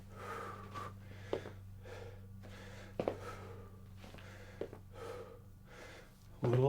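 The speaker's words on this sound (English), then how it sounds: "Nice big deep breath." Deep breathing during a kettlebell workout, slow rhythmic inhales and exhales with a few sharp gasps, close and over a low steady hum.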